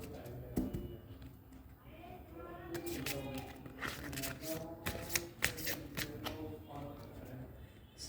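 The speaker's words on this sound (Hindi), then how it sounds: "इतने सारे कार्ड गिर रहे हैं उछल उछल के" Tarot cards are shuffled by hand, giving a fast run of crisp riffling flicks and light slaps as several cards bounce and drop, close and fairly quiet, with a voice speaking at times.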